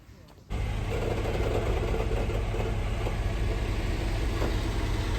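A city bus pulls up and idles at a stop, a steady low engine rumble rising abruptly after a brief quiet moment and holding loud and continuous throughout.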